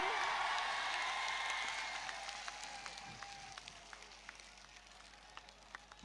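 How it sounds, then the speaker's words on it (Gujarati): Applause from a crowd at a political rally in Tharad, loud and dense at first, then thinning and fading over several seconds, with a few scattered claps and whoops. "આપણે તાળીઓના ગડગડાટથી વધાવી લઈશું"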